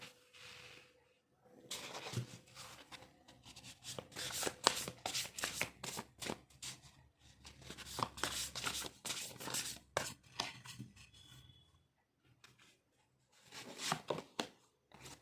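Tarot cards are shuffled and drawn from a deck in repeated bursts of crisp, riffling flutters and soft slides, close and fairly loud. There are brief quiet gaps between the bursts.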